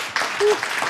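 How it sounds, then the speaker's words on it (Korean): A brief burst of audience applause greets a German architect who builds traditional hanok houses as he is welcomed onto a talk-concert stage; the clapping is steady and moderately loud, with a short tonal sound partway through. "박수로 환영해 주세요."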